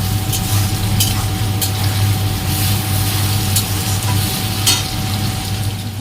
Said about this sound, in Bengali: ছুটির জন্য মেটে বসে দিয়েছি